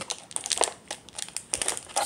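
A crinkly plastic wrapper on a trading card booster pack is torn and handled, giving quick bursts of crackling and crumpling close up, with brief pauses between.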